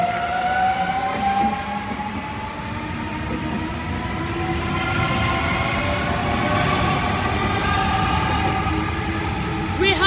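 An M-set electric train departs the platform at Warwick Farm station, its motors whining and rising steadily in pitch over a continuous rumble of wheels on track, close and loud throughout.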